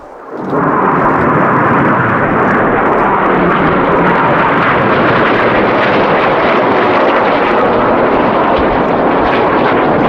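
Red Arrows RAF jets making a low pass at the Kauhava Airshow 2020: a loud, sustained broadband roar that swells in within the first half-second and holds steady throughout, with no talking.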